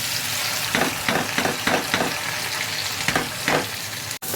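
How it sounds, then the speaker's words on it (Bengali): Pulao rice frying in ghee in a pan for biryani, a steady broadband sizzle with periodic louder scraping bursts as it is stirred, close and continuous with no talking. "এখন চালটা ভালো করে ভেজে নিব।"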